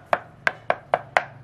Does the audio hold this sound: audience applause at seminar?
no